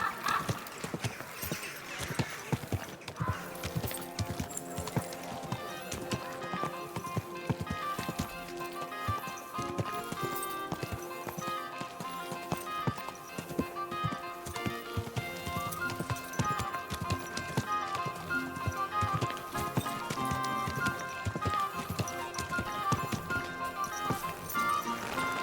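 Horse hooves clip-clop steadily on a road in Kingdom Come: Deliverance II, a continuous rhythmic trotting beat over a busy musical score, with an occasional whinny.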